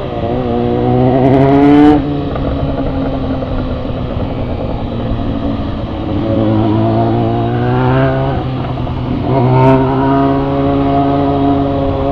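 A Honda Tornado motorcycle revs and accelerates while being ridden, its engine note climbing through repeated gear pulls with brief dips between shifts, loud and close throughout.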